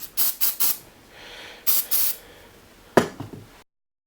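Several short spray bursts from a bottle cleaning the outside of a Traxxas XO-1 RC car: two quick groups of hissing sprays with a pause between and a final burst, close and alone.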